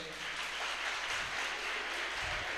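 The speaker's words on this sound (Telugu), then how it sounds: "ఫాదర్ని ఇంతకు ముందు ఎక్కడన్నా మీరు చూసి ఉంటే ఒకసారి చప్పట్లు కొట్టండి." A church congregation at a Christmas service breaking into applause, a dense, fairly faint wash of many hands clapping together without pause.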